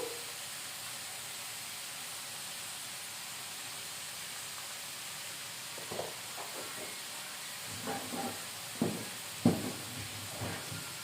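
Beetroot fry with salt and turmeric in a pan: a steady soft hiss of cooking, then, partway through, a spoon begins stirring with quiet scrapes and knocks that come in short bursts, close by and with no speech.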